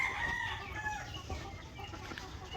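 White leghorn and barred rock chickens in their coop, with steady overlapping clucks and crowing-like calls forming a busy flock chatter throughout.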